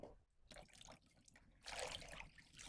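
Cabbage greens being washed in water, with intermittent splashing and trickling in bursts, close and fairly soft, separated by brief quieter pauses.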